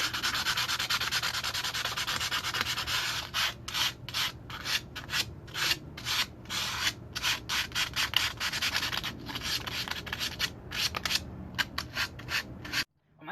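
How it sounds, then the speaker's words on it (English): Close, rapid rasping strokes of sanding rust off a truck, rubbing in quick back-and-forth bursts with brief gaps, then stopping abruptly at the end. "I don't think sanding is gonna make a difference, but you're just like taking off the rust dust"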